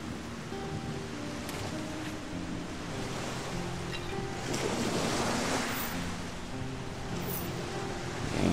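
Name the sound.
ocean waves on shore in video game Risen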